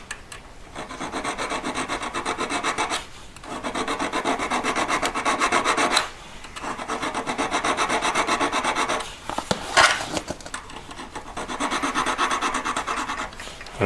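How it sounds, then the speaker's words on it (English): A metal hand file rasps back and forth across the under bezel of a three-stone ring, in steady rhythmic strokes broken by two short pauses, close and fairly loud with no talk. "file is going up and down across the center of the ring at that angle"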